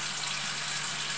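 Buckwheat groats being rinsed in water, a steady, close rush of running and sloshing water with no talk.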